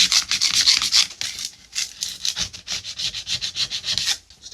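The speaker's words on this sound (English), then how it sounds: "I think I am going to have to file these burrs down though." A file rasps across burrs on the blade of a vintage Warranted Superior saw in quick, close, repeated strokes that keep a steady scraping rhythm and stay loud throughout.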